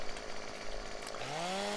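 Chainsaw revving in Farming Simulator 2015 while working in a forest, a steady buzzing drone that rises in pitch toward the end, close and continuous with no talk.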